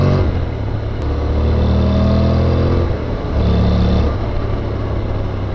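A nearly new Honda NC750X motorcycle engine revs hard in first gear around 6,000 RPM, a loud, steady mid-pitched drone that briefly eases off and then surges again, with no talking.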